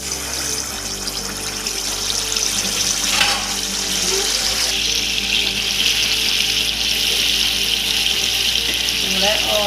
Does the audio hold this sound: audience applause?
no